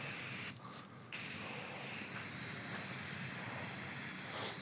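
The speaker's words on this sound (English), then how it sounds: "This spray can's like spitting chunks." A clogged spray can hisses steadily, sputtering and spitting paint, with a brief dip near the start before the loud spray continues.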